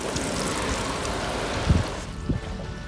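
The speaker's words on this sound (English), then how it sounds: "You'll get the hose pipe on it and the water will just bead off." Hose pipe spraying water onto a waterproof-coated canvas tent, a steady close rushing hiss with a couple of brief thuds near the end and no talking.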